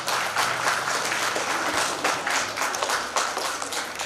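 A dense, steady round of audience applause welcomes a play school principal at a state school chess championship ceremony. Many hands clap continuously and loudly for about four seconds.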